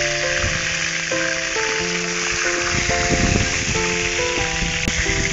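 Grass carp pieces fry in hot oil with a steady, dense sizzle and crackle running loud and close throughout, with no talking over it.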